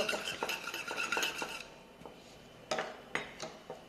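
Chickpea salad being tossed with salt in a bowl, with a string of clinking spoon-against-dish taps and soft mixing scrapes, busy at first and then sparser, close by with no talk.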